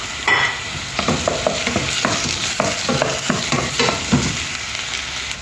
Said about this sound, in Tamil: வெங்காயம் நல்லா வதக்கணும்